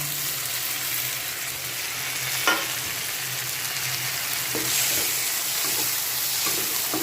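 Tomato and coriander frying in a pan for rava upma make a steady, close sizzle throughout, broken by a few soft clinks and scrapes of stirring over a faint low background hum.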